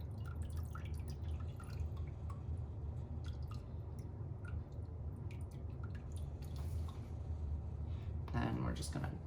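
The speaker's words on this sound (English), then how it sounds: "pour all of the remaining broth in here" Hot broth poured through a strainer while home canning, with steady dripping and splashing liquid over a continuous low background, close and moderately loud, ending in a brief louder splash.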